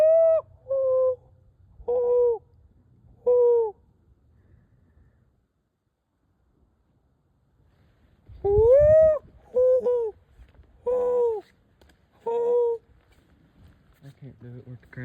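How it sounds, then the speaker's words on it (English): A hoot owl calls during a bird hunting outing in the woods, a series of clear, evenly spaced hoots, then a long quiet pause before another run of hoots, with faint rustling between calls. "Alright, see that hoot owl"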